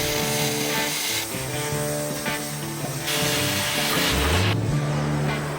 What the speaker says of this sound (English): it's time to fire up the torch and cut some steel